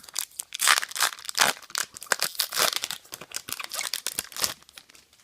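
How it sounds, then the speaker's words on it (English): A Pokemon HeartGold SoulSilver booster pack wrapper torn open up close, with loud, continuous crinkling and ripping of foil in irregular bursts. "Today I'm gonna be opening up the second half of my Heart Gold and Soul Silver booster pack"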